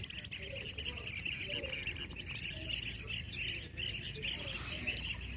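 Many birds nesting in holes in an earthen riverbank chirp and twitter continuously in a dense, steady chorus over a low outdoor rumble, without pause.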